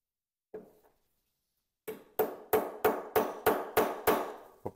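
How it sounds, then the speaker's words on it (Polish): Light hammer taps seat the stop plate into a Vis wz. 35 pistol during reassembly. There are two soft early knocks, then a steady run of about eight crisp, evenly spaced metallic strikes close by. "Poprawimy ją troszeczkę młotkiem."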